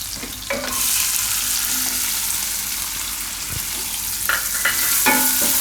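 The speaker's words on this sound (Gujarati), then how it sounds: "ડુંગળીને આપણે થોડીક વાર પકાવી લઈશું, 1 મિનિટ માટે. વચ્ચે વચ્ચે હલાવતા રહીશું." Onion with a pinch of asafoetida fries in a pan for mug dal paratha filling, a steady loud sizzle running throughout, with a few short spoon scrapes from stirring near the end.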